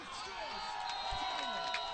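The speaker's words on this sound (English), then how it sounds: "You will hear a lot of chanting from the crowd here." Spectators at a 2016 IQA Quidditch World Cup quarterfinal between France and Australia keep up a steady outdoor crowd roar with chanting and whoops, continuous and moderately loud throughout, with voices mixed in.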